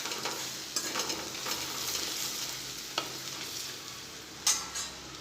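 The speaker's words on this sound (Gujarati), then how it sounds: "એ લસણને આ રીતે 1 મિનિટ સાતળી લઈશું।" Crushed garlic sautéing alone in a pan for Punjabi rajma masala, a steady soft sizzle with a few stirring scrapes and clinks, close and continuous with no talk.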